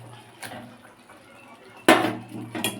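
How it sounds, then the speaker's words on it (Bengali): A spatula scrapes and knocks against a pan as chhena is stirred into spiced curry, with a few sharp metallic clatters and scraping bursts, the loudest near the end. "ছানাটার সাথে ভালোভাবে খুঁটি দিয়ে ঘেটে ঘেঁটে মিশিয়ে নেব"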